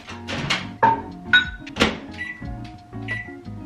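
A microwave oven beeps and clunks nearby, with several short electronic tones and soft mechanical thumps over a low hum.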